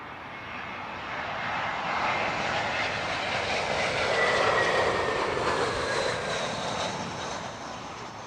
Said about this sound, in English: This is British Airways 393 inbound from Brussels.